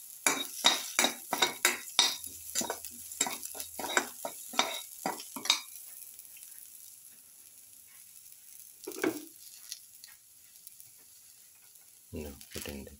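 Fish brindleberry stew ingredients sautéed in a pan: a quick run of sharp spoon-against-pan stirring clicks for about six seconds, then quieter sizzling and a few faint scrapes and knocks.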